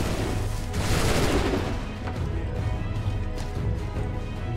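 Enemy gunfire in Assassin's Creed 3, several rifles firing in a loud, ragged volley that peaks early and then trails off into scattered shots and rumble.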